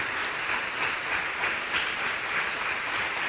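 A church congregation applauding together, steady dense hand clapping that fills the room evenly for a few seconds with no pauses and no speech.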